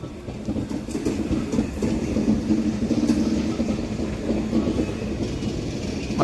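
A new Amrit Bharat 2.0 Express on its inaugural Thiruvananthapuram–Charlapalli run rolls along with a steady, close rumble and faint clickety-clack of wheels over rail joints, continuous throughout with no talk.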